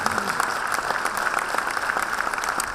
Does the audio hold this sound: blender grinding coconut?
no